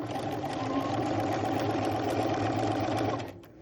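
A sewing machine stitching down a strap runs in a steady, close, continuous whir with rapid needle clatter, then slows and stops just before the end, with no talking.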